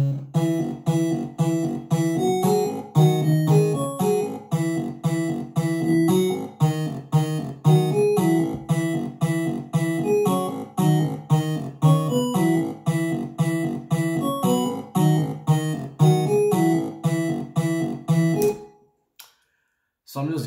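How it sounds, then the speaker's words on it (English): A remix of a film song plays as a steady, loud beat of punchy drums with an added bass line, looping evenly for about nineteen seconds before cutting off abruptly into near silence. "let's see what it sounds like with the bass now."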